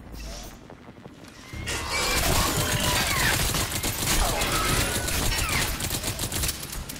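Weapons fire in the shooter video game Crysis 3 during a jungle fight: a dense, continuous barrage of rapid shots with harsh, shrieking noise starts after a short quiet opening and stays loud to the end.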